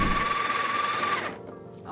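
A Breville Barista Express Impress espresso machine grinding coffee beans, a steady close motor whir with a faint tonal whine that stops abruptly near the end, leaving quieter room sound.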